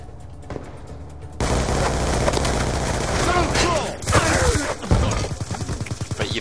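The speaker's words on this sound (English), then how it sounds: "It fires 28 gauge shots, so if you get close enough, you can kill with one shot." Gunfire from a 28-gauge revolver that behaves like a shotgun, in Call of Duty Black Ops 2 multiplayer, with loud bursts of shots and booms filling the game's battle noise after a quiet opening.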